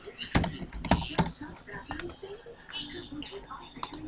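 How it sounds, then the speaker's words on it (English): Quick bursts of typing on a computer keyboard during a Roblox Deathrun game session, sharp clustered clicks near the start, then sparser taps, with speech faintly underneath. "typing something"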